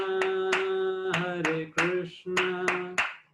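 Sharp, evenly spaced hand claps, about two per second, keep time beneath a sung Hare Krishna chant during kirtan, the voice holding steady tones between beats.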